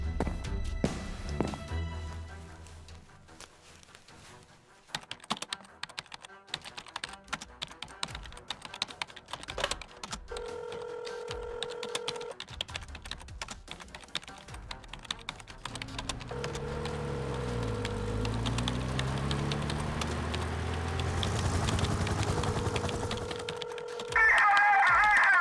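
Computer keyboard typed quickly in a video game scene, soft clustered key clicks running through a quiet, tense backdrop, with intermittent electronic tones and low rumbling effects layered over the keystrokes.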